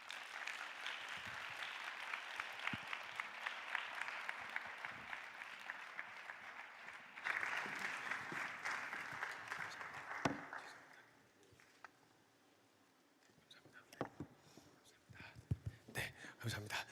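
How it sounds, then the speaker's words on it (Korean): A church youth winter retreat congregation claps steadily for about ten seconds to welcome a missionary speaker at an evening service, then the applause fades into scattered footsteps and light shuffling. "선교사님 환영하는 마음으로 박수로 모시겠습니다"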